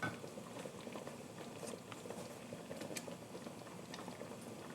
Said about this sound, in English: chili mixture and the pork is simmering away